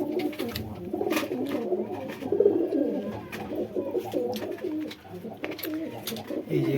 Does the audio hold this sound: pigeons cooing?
yes